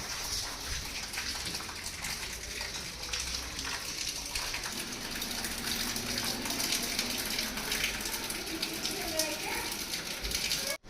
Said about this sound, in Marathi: काहीच पाऊस चालूच आहे, आता रेनकोट घालावा लागेल आम्हाला.